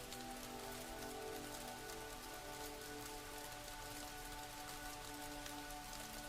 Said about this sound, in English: The storm you feared has broken into a gentle rain